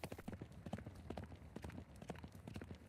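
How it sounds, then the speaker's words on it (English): Horse galloping sound effect, a steady, quick clip-clop of hooves repeating throughout at a faint, even level. "I've actually got horse galloping sounds already."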